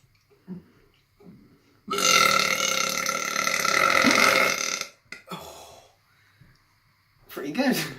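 One long, loud, gravelly burp rolls on for about three seconds, then shorter burps and grunts follow at close range, with brief vocal sounds in between.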